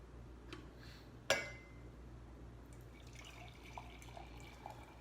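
Water heated to 200 degrees drips through a pour-over coffee brewer. One crisp clink comes early, followed by faint, scattered drips and trickling over a low steady hum.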